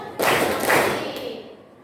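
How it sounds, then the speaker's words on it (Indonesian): Hand clapping in a room during a teacher-training session: two loud, resonant smacks about half a second apart, each with a short echo, then a fainter tap as the sound dies away. "Tepuk tangan sekali."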